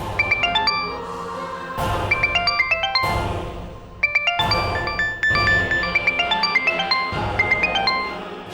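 A bright electronic ringtone chimes in repeating bursts of tinkling notes, fairly loud and steady, with no talking.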